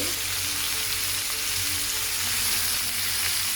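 Pepper, onion and curry leaves sauté in a pan with a dense, continuous frying sizzle, steady and close, with faint stirring underneath and no talking.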